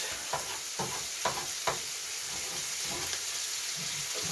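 A broccoli fritter fries in a pan on a stove ring, giving a steady, fairly quiet sizzle with a few soft scrapes and clicks early on.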